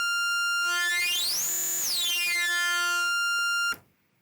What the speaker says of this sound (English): That's a really simple 2-oscillator form of FM synthesis.